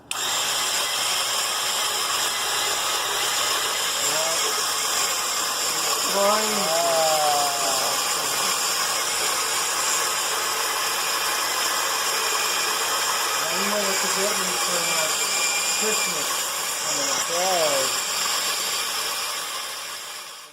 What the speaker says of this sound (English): I got a coarse grind, and I turn it on.